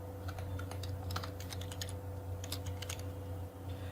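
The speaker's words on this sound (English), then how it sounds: "let's type best salon" Typing on a computer keyboard while setting up logo text, heard as a steady run of light, quick key taps over a constant low electrical hum, with no one talking.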